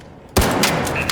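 Turret opening fire in the video game ARC Raiders, an abrupt loud onset followed by a dense, sustained rattling volley close up.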